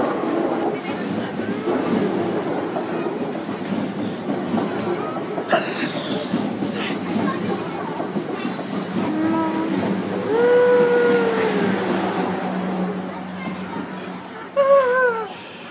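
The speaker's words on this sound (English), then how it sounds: "The train's coming." South West Trains class 444 electric train passing Poole High Street level crossing, a steady loud rumble of wheels on rails with rising squeals near the end, while people talk nearby.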